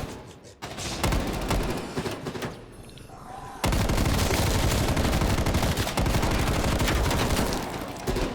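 Sustained automatic fire from a light machine gun in a shooter video game, loud, dense bursts rattling continuously, briefly quieter mid-clip then resuming at full intensity to the end.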